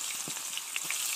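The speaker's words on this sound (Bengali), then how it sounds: "জিরা ফোড়ন দিলাম, পেঁয়াজগুলো ছেড়ে দিলাম" Chopped onions drop into hot oil seasoned with cumin seeds for a jackfruit biryani, giving a brief, soft, even sizzle with faint crackles.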